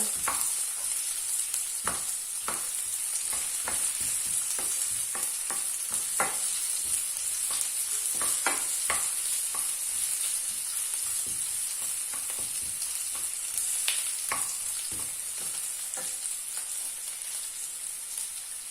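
Vegetables sauté in a pan over medium heat with a steady sizzle. Scattered clicks and scrapes from stirring mark the frying, and the sound stays close and even throughout with no talk.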